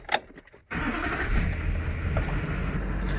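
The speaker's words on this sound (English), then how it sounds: "this one's definitely a work truck, but it actually fires right up" A Duramax diesel work truck fires right up, a brief cranking burst followed by a loud, steady, rumbling idle up close.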